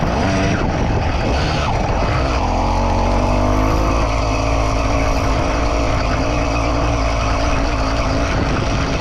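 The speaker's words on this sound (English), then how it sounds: "if it ever gets revving on you too high, like that, just let the clutch out to absorb that rev." A 100cc two-stroke motorized bicycle engine revs hard and high, a loud, continuous buzzing roar held close by for the whole stretch with no talk over it.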